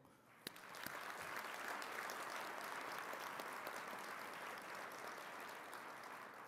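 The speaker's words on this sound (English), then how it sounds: "give another round of applause to the Meade Senior High School Honor Guard and for our vocalist, Flory Bagel" Banquet audience at a Black Engineer of the Year dinner applauds a high school honor guard and vocalist, steady dense clapping of many hands that swells after a few early claps and holds evenly, fairly distant and soft.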